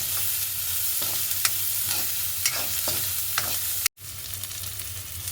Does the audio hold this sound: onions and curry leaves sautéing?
yes